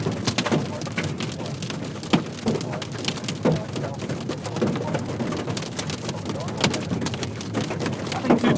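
Hail and rain pound a storm chase vehicle in West Texas, giving a dense, continuous rattle of impacts with sharper louder strikes mixed in and voices speaking now and then.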